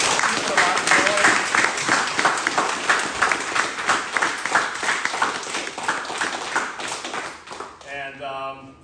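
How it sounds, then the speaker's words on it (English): A room of people applauds new members after a seminar, a dense sustained round of clapping that stays loud for several seconds, then fades out at the end. "I want to give a collective round of applause to our new members"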